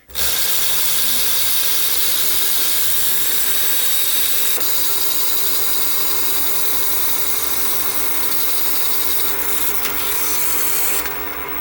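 A wooden pen blank spins on a lathe at about 700 RPM, giving a loud, continuous rubbing whir as the tool cuts steadily, close by and without speech.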